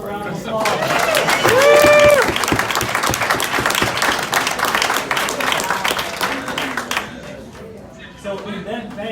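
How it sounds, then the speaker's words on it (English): Audience applause for a speaker at an NAACP day at the capitol, a crowd clapping loudly under voices and cheers, then fading out toward the end. "Let's give him a round of applause."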